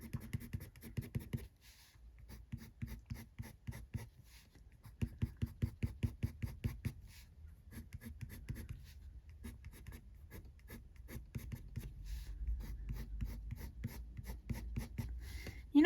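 Coloured pencils layer colour onto paper in soft, close, rhythmic scratching strokes that come in bursts with short pauses, with no voice over them.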